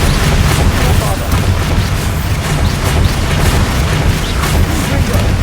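A Bombarda spell explosion in Hogwarts Legacy, heavy booming blasts and rumbling bursts in continuous loud succession against a troll fight, with voices shouting underneath.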